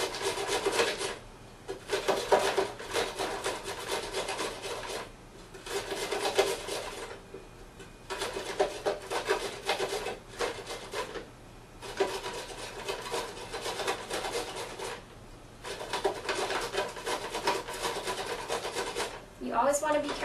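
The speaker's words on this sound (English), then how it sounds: "going to grate our carrots directly into it" Carrots being grated by hand over a bowl for a bean salad, a steady rasping scrape in repeated strokes with brief pauses between bursts, close and fairly loud, no voices.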